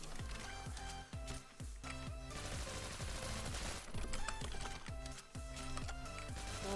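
Rapid automatic gunfire in the shooter game Phantom Forces, steady rattling bursts of shots with brief pauses, fairly faint and with no talking over it.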